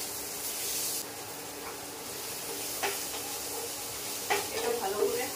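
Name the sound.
chopped onions frying in hot mustard oil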